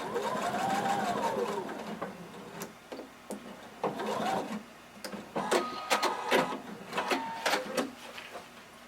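A sewing machine stitches across the bottom of a jumpsuit strap in short, stop-start runs, the motor whirring up and down with pauses between bursts, close and moderately loud.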